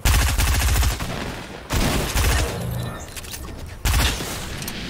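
Gas can blowing up in a shooter video game, loud booming blasts and crackling bursts in several waves, with rapid gunfire-like rattles and a voice briefly underneath.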